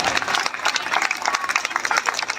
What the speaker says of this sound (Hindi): एक जोरदार तालियां सुहानी सिंह के नाम